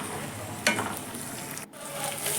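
Onion and tomato puree fries in oil for pav bhaji, making a dense continuous sizzle up close with one brief spoon scrape partway through and no voices.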